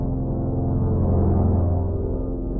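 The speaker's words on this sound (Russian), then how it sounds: "Так ученые моделируют обертона световой пульсации, превращая их в звуковую." Sonified overtones of a star's light pulsation, a steady, sustained droning hum of layered low tones, even in loudness throughout and with no voices.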